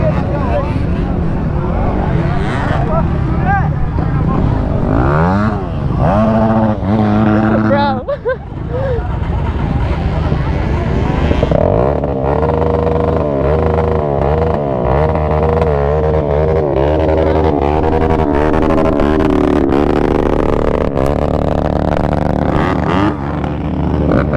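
A quad four-wheeler that crashed into a pond revs its engine in a fluctuating, sputtering drone with a rising and falling pitch. Voices talk over it throughout.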